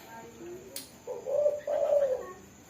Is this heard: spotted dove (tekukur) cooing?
yes